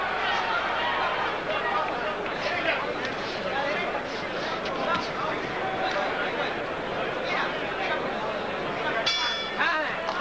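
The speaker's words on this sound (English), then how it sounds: "And there's the bell for the end of that round." A boxing bell ends a round in the Julian Jackson vs Francisco De Jesus fight, a single brief ring near the end that rises over constant crowd noise while a commentator talks.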